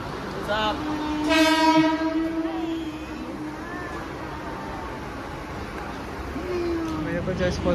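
A train at a railway station sounds a loud, prolonged horn with stacked tones, followed by steady rumbling station ambience and a second rise near the end; voices are faintly present in the background.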